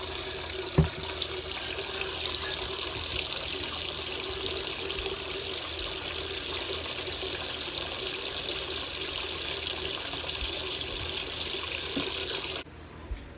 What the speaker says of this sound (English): I turned the water off